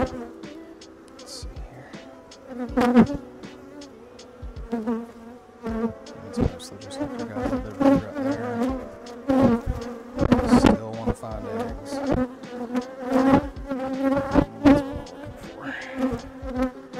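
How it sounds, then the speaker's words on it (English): Honey bees buzzing close up in a hive during the sourwood nectar flow in western North Carolina, a dense droning hum that swells and fades, punctuated by irregular knocks and bumps. "Because there's a lot of bees in here."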